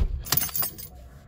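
Car keys jangle in two or three quick metallic bursts, close and clear, as a car is unlocked, with no voices.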